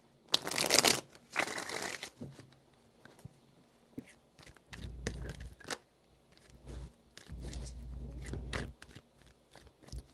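Tarot cards being shuffled in several separate bursts of crisp rustling and riffling, with quiet pauses between them, close and fairly soft.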